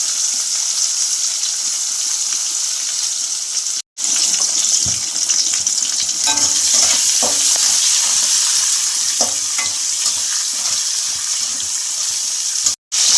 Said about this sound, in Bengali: পেঁয়াজটা একটু লাল করে ভেজে তারপরে রসুন টমেটো সব একে একে দেব